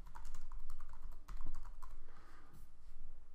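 Rapid keystrokes on a computer keyboard as a title is entered during a media upload, a close, steady patter of clicks with brief pauses, no talking.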